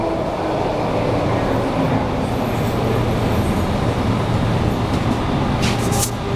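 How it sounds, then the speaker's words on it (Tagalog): Train rumbling through an underground station, a steady dense roar of wheels and motor with a continuous low hum, loud and close throughout, with a brief higher squeal near the end. "Ayan yung tren."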